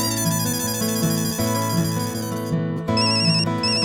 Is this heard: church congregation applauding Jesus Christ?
no